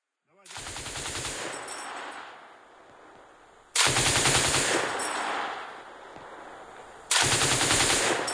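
Loud machine gun fire in combat comes in three long sustained bursts, each a harsh rapid stream of shots close by with echoing tails between them.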